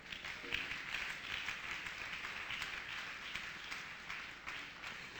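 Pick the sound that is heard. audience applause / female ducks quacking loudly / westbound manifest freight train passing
audience applause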